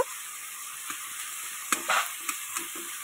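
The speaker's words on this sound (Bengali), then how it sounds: "একটু লাল লাল করে ভেজে নেব চিংড়ি মাছগুলো" Prawns fry in hot oil with a steady close sizzle, broken by a few sharp stirring clatters and scrapes in the pan.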